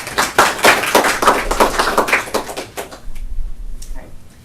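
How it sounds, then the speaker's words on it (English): Classroom audience applause for a student speaker after an informative speech, a few seconds of close, uneven claps that stop abruptly, followed by quiet room noise and a faint thump. "let's give a big round of applause to Michelle"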